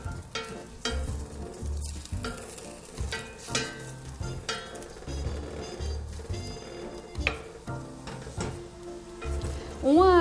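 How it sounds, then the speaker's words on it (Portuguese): Onion sautéing in a pan for tomato sauce, a steady close sizzle broken by scraping stirs and soft clacks of the utensil, with light music playing beneath and a brief rising tone at the end. "A cebola começa a refogar, a gente vai percebendo que ela vai murchando, né?"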